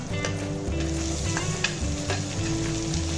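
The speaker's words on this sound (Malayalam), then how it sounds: "ഇനി ഇതിനകത്തേക്ക് അരിഞ്ഞു വെച്ചിരിക്കുന്ന തക്കാളി ഇട്ട് കൊടുക്കാം" Chopped tomatoes sizzle steadily in a pan of sautéed onions for a tomato chutney, a close, continuous frying hiss with a few soft stirring clicks and no talking.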